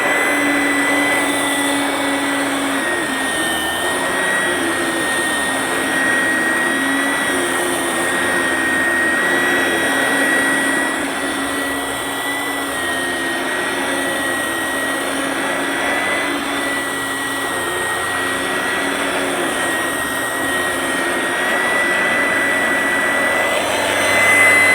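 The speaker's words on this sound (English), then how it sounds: "So that is the Kenmore Clean and Vac." A Sears Kenmore Clean and Vac hand vacuum cleaner motor runs continuously with a steady high-pitched whine and airy hiss, unchanging throughout and no talking.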